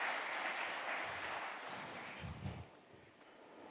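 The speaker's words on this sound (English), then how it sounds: "So a round of applause for Luis" Applause from an investment event audience, a soft, steady patter of clapping that sounds somewhat distant and tapers gradually across the short stretch.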